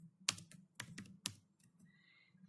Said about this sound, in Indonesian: saya ketikkan git clone